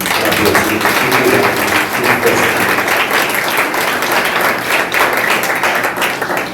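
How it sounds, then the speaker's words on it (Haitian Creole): A church congregation claps steadily and loudly at an anniversary service, dense continuous applause filling the room throughout with no voices standing out. "On applaudit."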